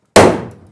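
A single sharp metallic clang from setting a rivet with a hand riveter inside a vintage camper trailer, loud and sudden, then ringing and fading over about half a second.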